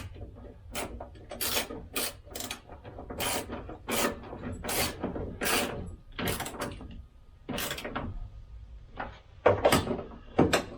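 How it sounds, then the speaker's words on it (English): Spanner tightens bolts securing a bar on a 1971 Range Rover, producing a series of close, rasping metallic ratchet strokes in uneven bursts with short pauses between them, alone without talk. "I'm going to tighten these two bolts up here, which hopefully you can see."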